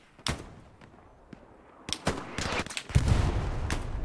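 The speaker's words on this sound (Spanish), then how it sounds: "Pero, ¿a dónde está disparando este hombre?" Video game gunfire: scattered sharp shots crack out early and sparse, then turn into quick bursts of rapid fire and a heavier rumbling barrage toward the end, fairly close and loud.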